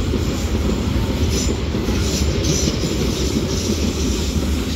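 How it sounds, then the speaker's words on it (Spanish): A Lima Metro Line 1 train passes Pumacahua station, a loud, steady close-up rumble of rolling wheels and rail noise with faint high squeal, continuous throughout with no talk. "vamos a apreciar también el paso de los trenes"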